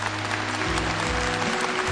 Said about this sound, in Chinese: 让我们掌声送给澎湃创想